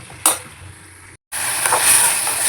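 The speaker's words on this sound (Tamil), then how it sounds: "இலையை போட்டு வதக்கணும்." Thoodhuvalai leaves sauteing in a hot pan for a South Indian kuzhambu, a steady close sizzle with a brief stir or clatter near the start and a short cut before the frying hiss resumes louder.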